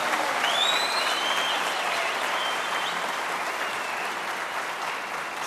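Audience applause fills a Turkish political rally, a dense, steady wash of clapping that holds loud and even throughout with faint crowd murmur beneath and no speech.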